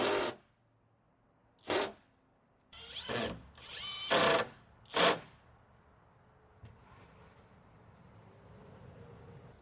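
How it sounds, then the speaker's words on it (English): A Hercules cordless impact driver fires several short, loud bursts, a few separated whirs and rattling impacts, automatically stopping after a couple of impacts, then falls quiet apart from faint background hum. "after a couple impacts, it will just automatically stop"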